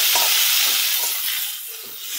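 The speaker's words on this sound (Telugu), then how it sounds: "సో మనం కొద్దిగా మెత్తబడేంత వరకు ఫ్రై చేసుకున్నాం" Onions fry in a pan until softened, giving a loud, close hiss and sizzle with a few light scraping stirs and no talk.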